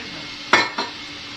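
A spoon scrapes and knocks twice against a cooking pot as food is stirred in a home kitchen, two close clinks over a low background hum.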